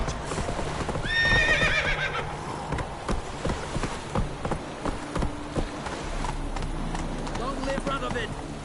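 A horse in The Witcher 3 whinnies, then gallops with steady, rhythmic hoofbeats, close up, under faint background voices.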